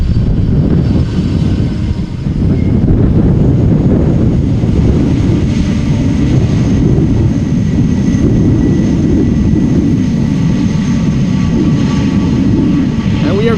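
A Boeing 747 landing at Amsterdam Schiphol Airport and slowing on the runway without reversers, a loud, steady low jet roar with wind buffeting, heard from nearby and continuous throughout.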